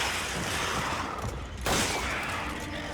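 A dense burst of rapid gunfire in the video game Resident Evil 5, loud and continuous, with a brief dip before another sustained volley.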